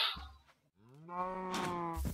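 Cows in the video game Minecraft let out a couple of close, clear moos, one short and one long and drawn out, with no talk over them.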